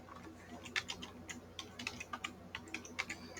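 Computer keyboard typing of a MySQL command, a quiet, close run of irregular key clicks with short pauses between bursts, alone over faint room hum.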